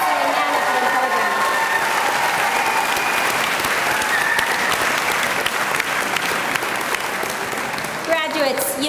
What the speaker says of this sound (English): Please join me in a round of applause for the graduates of the Master of Science in Public Policy and Management program.